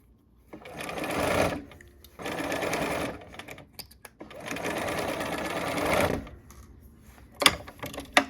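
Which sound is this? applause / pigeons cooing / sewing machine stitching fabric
sewing machine stitching fabric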